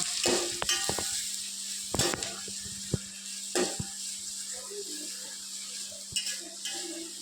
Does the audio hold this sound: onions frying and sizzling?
yes